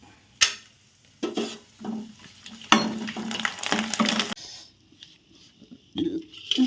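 Food frying in very hot oil crackles in uneven sizzling bursts, loud and close, with brief gaps and occasional clinks of a utensil against the pan.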